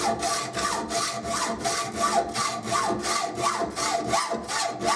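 A hacksaw cuts through a tube with steady back-and-forth strokes, about two per second, each giving a raspy, gritty scrape. Close and moderately loud, with no voices.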